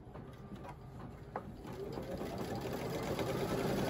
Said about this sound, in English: right now it's stitching the heaven